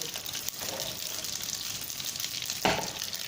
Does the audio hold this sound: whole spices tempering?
yes